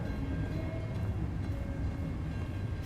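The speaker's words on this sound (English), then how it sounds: "There's a train." A train rumbles past in an indie video game demo, a dense, steady low roar with faint tonal hums, loud and continuous throughout with no voices over it.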